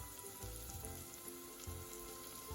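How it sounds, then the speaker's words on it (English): Onions with a pinch of salt frying in oil over a medium-low flame, a steady close sizzle with soft crackling pops throughout. "Add the onions and fry them until they turn slightly pink in color."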